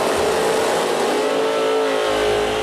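Hemi-powered drag race cars roar through a final at a hot rod reunion event, a loud, continuous engine blare that holds steady throughout with no talk over it.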